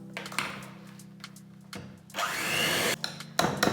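A whisk beats gluten-free plum cake batter while rice flour is sifted into it, giving a rough, continuous scraping and swishing that stops and restarts in loud bursts, close by and with no talk.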